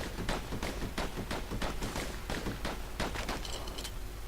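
Rapid repeated pistol shots fired from dual slinger pistols in the video game Bastion, a steady rhythmic volley of sharp cracks over dense in-game background sound.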